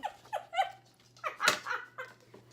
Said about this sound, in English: I heard a dog.